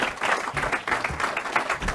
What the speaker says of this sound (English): Let's have a round of applause for all of our speakers